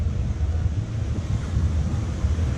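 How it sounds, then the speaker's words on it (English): Heavy ocean waves surge against rocks along a cloudy Caribbean beach, a continuous loud low roar of surf mixed with buffeting wind noise, with no voices. "But you can see the waves today, really heavy, just would push you right back in against the rocks."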